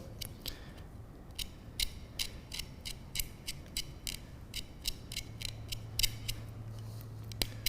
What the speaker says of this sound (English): we'll just kind of grind a bit off